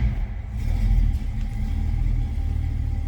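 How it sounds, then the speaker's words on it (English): A 1966 Ford Mustang fastback with a 289 V8 idles just after a cold start, a deep, steady rumble with slight surges and a throaty low-end burble, close and continuous. "So easy that 289 starts. Nice sounding car too."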